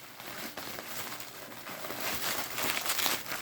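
Crinkling plastic and paper packaging being pulled open from a diecast model car, a continuous close rustle that grows louder toward the end.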